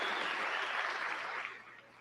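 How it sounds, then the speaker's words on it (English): Applause rises as a dense, fairly faint patter of clapping from a group, holding steady and then fading away over the last half second. "He's clapping."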